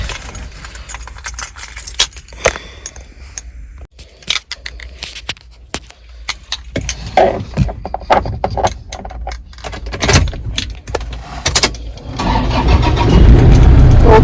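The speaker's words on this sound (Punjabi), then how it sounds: "ਹੁਣ ਮੈਂ ਡਰਾਈਵ ਕਰਨਾ" A car engine starts after some handling sounds and keys jangling, then runs and pulls away, with engine and road noise building louder toward the end. No one speaks.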